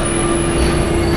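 A Paris metro train pulling into a station, with a loud, continuous rumble and a sustained high wheel squeal, close by.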